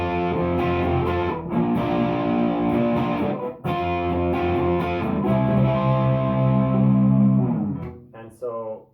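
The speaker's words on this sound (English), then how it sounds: "then I switch to distortion" Electric guitar played through a distortion effect during a song lesson rings out in sustained, thick, crunchy chords that change a few times, ending in short choppy strums.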